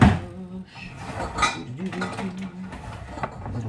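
Rapid clinking of a tiny whisk beating egg in a small dish or bowl while making pumpkin pie, close and fairly loud, with a few sharper taps against the side.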